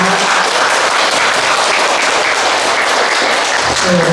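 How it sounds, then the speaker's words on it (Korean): Sustained audience applause at a Buddhist college lecture at Beopungsa temple in Wonju, a dense, steady wash of many hands clapping at high level throughout, with no voices over it. "행사장을 해주신 wendy님께 감사의 큰 박수 부탁드립니다"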